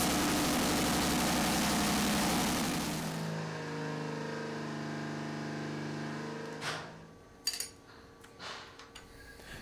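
A loud, rough race engine runs at a steady idle during break-in, then its note drops and settles into a lower, smoother hum, with a few clunks and taps near the end.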